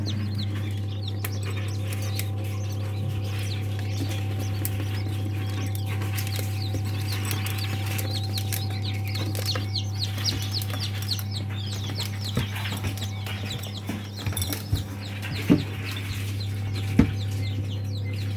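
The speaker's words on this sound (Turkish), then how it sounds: "Bunlar cin bıldırcınlarımız. Çin bıldırcınlarımız. Ana kucağındalar." Faint chirping of Chinese quail chicks with their mother over a constant low electrical hum, with a few soft peeps and rustles standing out near the end.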